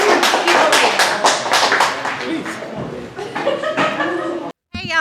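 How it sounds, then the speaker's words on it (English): A crowd at a spooky-themed poetry slam claps for a poet, rhythmic sharp claps at first, then scattered laughter and chatter with people talking, ending in a brief silence. "Applaud the poet."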